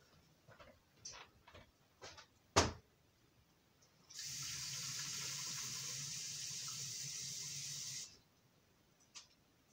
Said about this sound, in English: I'll be right back because I got to wash this brush.